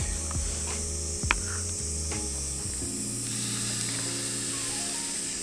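Steady hissing sizzle of salmon and steak on a hot charcoal grill, with a few faint clicks and scrapes, no voices.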